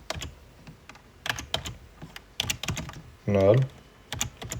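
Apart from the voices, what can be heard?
typing text on computer keyboard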